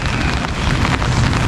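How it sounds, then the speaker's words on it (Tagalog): Heavy rain pours down hard and steady, a loud dense wash of noise with no pauses across the whole short stretch. "buhos na naman ang ulan. Ayan, sobrang lakas."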